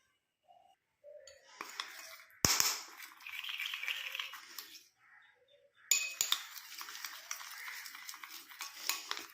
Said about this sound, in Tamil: இந்த வேசலின் வந்து நல்லா இதில் வந்து மிக்ஸ் ஆகிடும்.